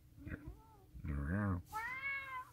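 A house cat meows three times near the microphone, the middle call longest and loudest, with a quiet voice talking to it in the background.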